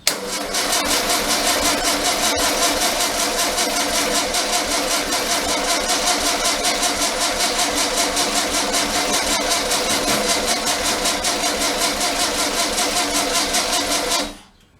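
A 36 hp Okrasa air-cooled engine runs right after its first start, a loud, steady, busy mechanical chatter held near the microphone for about fourteen seconds before cutting off abruptly.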